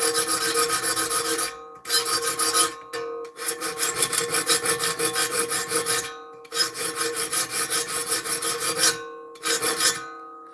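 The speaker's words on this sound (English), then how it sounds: "Remember, carbide saw blades can only be sharpened by a diamond file" Diamond file rasping across the teeth of a carbide saw blade, long bursts of harsh scraping strokes separated by short pauses, close and loud with no talk.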